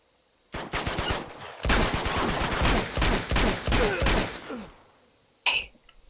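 Rapid bursts of gunfire from the video game Uncharted, loud and dense, firing in several clustered volleys over about four seconds, then a short gap and one final sharp shot near the end.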